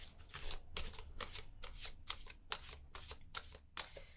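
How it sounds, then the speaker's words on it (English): Tarot cards being shuffled and drawn by hand, a steady run of crisp riffling bursts repeating roughly every half second, close and fairly quiet, with no talking. "let's pull some more cards"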